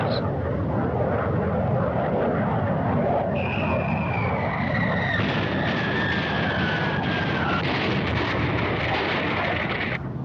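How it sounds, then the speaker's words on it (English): An early German World War II jet plane roars overhead, a loud, sustained blast of engine noise with a high whine sliding downward as it passes, while a voice narrates over it. "The Germans send up one of their first jet planes of World War II to knock down the bridge."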